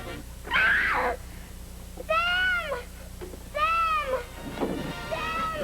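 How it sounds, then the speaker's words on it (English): A little girl screaming in the classic movie Them, several loud, wavering shrieks in separate bursts with short gaps between them, no other talk. "a peach of a scream from a little girl from that classic movie, Them"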